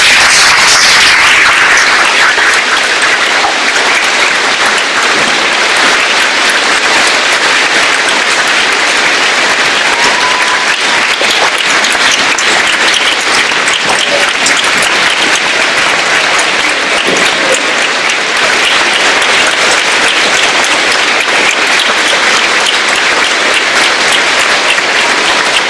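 Sustained, loud applause fills a school gym at a Veterans Day assembly, honoring Captain Greg. A large crowd claps steadily and evenly for nearly half a minute, with no break or voices.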